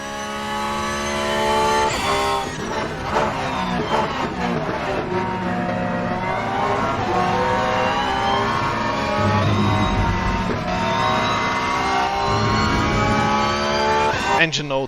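A racing car engine in the Rennsport sim racing game roars and revs through gear changes, with a whining gearbox and rising and falling pitch sustained loudly across the whole stretch.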